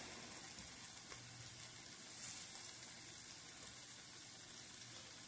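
Meatballs sizzling in a hot pan, a steady, soft, continuous frying hiss with no voices.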